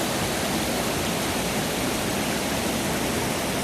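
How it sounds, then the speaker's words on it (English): Floodwater rushes loud and constant during the 2013 Big Thompson flood at Fairgrounds Park in Loveland, Colorado, a dense, unbroken roar filling the whole stretch with no voices. "Water going through here."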